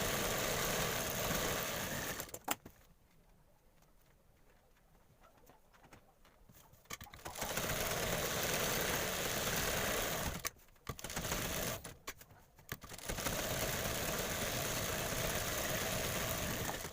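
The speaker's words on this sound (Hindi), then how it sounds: "उन टुकड़ों को अस्तर के साथ सिलाई कर लेंगे।" A sewing machine stitches blouse side-belt pieces together with lining in long loud steady runs, stopping briefly twice with quieter gaps between stretches of whirring.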